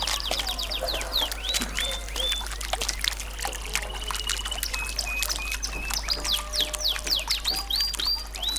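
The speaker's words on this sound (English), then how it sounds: "The sky, a bird." Many birds chirp and call in quick, repeated bursts throughout, fairly close and clear over a soft outdoor background, with no talking.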